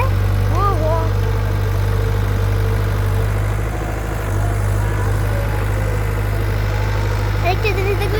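An engine idles with a loud, steady low hum throughout, while voices talk over it nearby.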